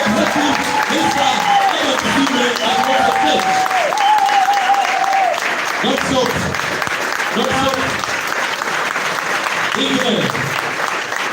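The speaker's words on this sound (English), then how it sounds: "Let's give a big round of applause to God of blessing Mr." Audience applause at a Saturday recognition event in Zambia, steady sustained clapping under a loud voice with tonal, sung-like phrases and brief spoken words throughout.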